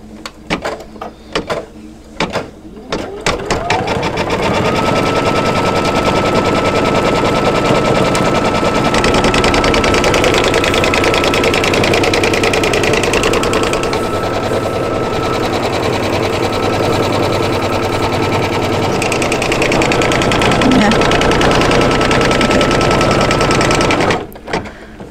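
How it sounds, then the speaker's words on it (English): Embroidery machine sewing the final sealing stitches through the layers of a quilted mug rug in the hoop: a few hard clacks at the start, then a loud, rapid, steady mechanical buzz of needle strikes for about twenty seconds before stopping. "now I'm stitching color stop number 20 is actually going to seal all the layers together"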